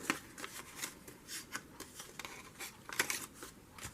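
Paper is folded in half for a journal signature, a run of quiet crisp rustles and creases with small sharp snaps, close and without voices.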